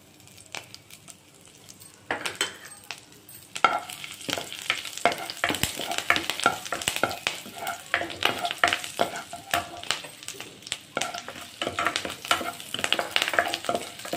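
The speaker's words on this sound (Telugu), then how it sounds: "గీ మరిగిన తర్వాత పచ్చిమిరపకాయలు వేసుకుందాం." Green chilies frying in hot ghee for carrot rice, a steady close sizzle with frequent scrape-and-clink stirring in a pan, softer at first and louder once stirring starts, with no talking.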